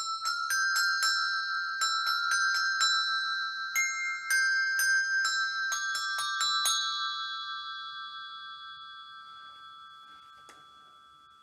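Bell tree bells are struck in a quick series of bright metallic pings, played undamped so they ring on and overlap, then the tones decay slowly into a long fading shimmer, with no talk.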